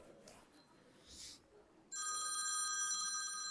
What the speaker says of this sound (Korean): 또 전화가 오네.